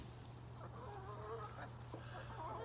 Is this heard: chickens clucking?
yes